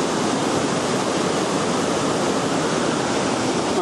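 A waterfall in Da Lat, Vietnam with a strong, heavy flow makes a constant, dense roar of falling water that stays loud and unbroken throughout, with no speech.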